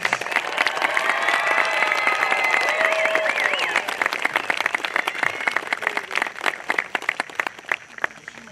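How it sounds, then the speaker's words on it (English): An audience at a high school agriculture graduation ceremony claps for the graduates. The applause is dense and sustained, then thins into scattered individual claps toward the end. "Let's have another round of applause for all of our graduates."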